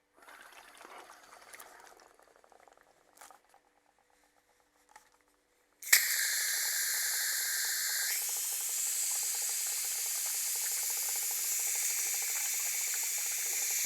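After a few quiet clicks and handling sounds, pressurized gas suddenly bursts out of a beer fermentation vessel being flushed, a loud, steady hiss that continues, its pitch dropping slightly partway through.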